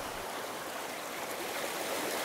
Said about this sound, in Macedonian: Зема вода од реката.